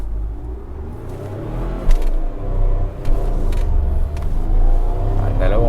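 A Tata Altroz hatchback accelerates hard from a standing launch, its engine a low, steady rumble heard from inside the cabin while someone talks over it.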